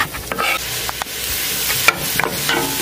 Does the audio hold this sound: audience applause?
no